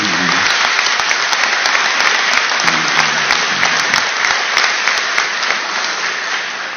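Sustained applause from a large audience at a 40th-anniversary ceremony for Ecuador's 1978 Constituent Assembly, dense clapping that holds steady and loud for several seconds before slowly tapering.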